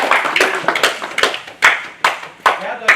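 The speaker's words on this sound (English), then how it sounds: "All right, give him a round of applause." A small group applauds at a coaches' weekend session, uneven clapping that comes in separate sharp bursts, fairly close, with a voice talking beneath it.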